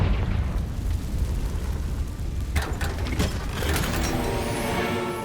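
Confringo fire spell from Hogwarts Legacy, a loud rumbling explosion that rolls on with crackling bursts and a sustained roaring tail, with no talking.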